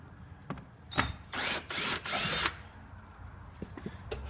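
Power drill backing out screws from a car door panel: a few short whirring bursts close by, with light clicks and handling noises before and after, and no talk.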